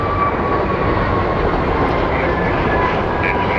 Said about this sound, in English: We had a Western Global Airlines MD-11 depart.